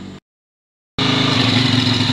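A motor started by a single relay remote control fires up abruptly after a short silence, then settles into a steady, loud, close mid-pitched running hum with no voices.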